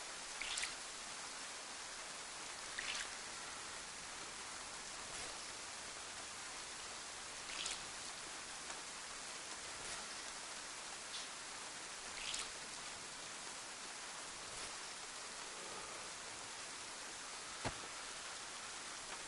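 Steady heavy downpour in the game DayZ, a continuous loud wash of rain with scattered sharper drip and splash accents throughout, and no voices.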